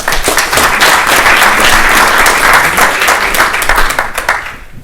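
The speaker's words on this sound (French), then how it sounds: "On peut l'applaudir, vu que c'était bonne chance." Loud, dense audience applause filling the room at a pitch event, steady clapping from many hands that holds for several seconds before tapering off near the end.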